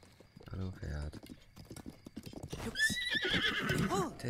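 A horse in Zelda: Breath of the Wild whinnies loudly in a rising, wavering call near the end, after brief hoof clatter and a voice at the start.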